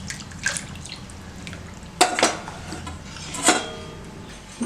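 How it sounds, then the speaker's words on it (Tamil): A little water poured into a pot of sambar, with soft splashing and dripping, occasional clinks of a utensil against the pot, and a couple of sharper knocks, close by and unaccompanied by talk. "தண்ணி கொஞ்சம் சேர்த்துட்டு நம்ம இதில் ஊற்றிக்கலாம்."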